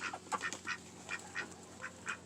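Ducks on a small backyard farm quack repeatedly. Roughly eight short nasal calls come in an uneven rhythm, quiet and at a moderate distance, with no talking.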